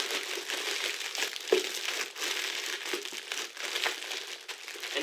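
A hasty cache bag is folded up by hand, producing a steady close crinkle and crumple of material with small rustling bursts, no voices.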